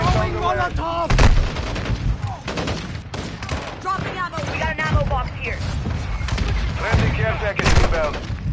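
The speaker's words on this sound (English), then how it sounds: "Mortar strike in the area!" Mortar strike explosions in a video game land as several heavy booms amid sustained gunfire, with voices talking throughout.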